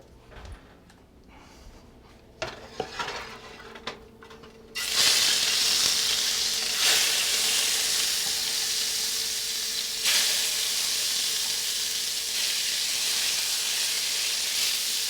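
Meat hits hot oil during a cooking demonstration. A few quiet clinks and knocks give way to a sudden loud, sustained sizzle and hiss that continues close and steady to the end.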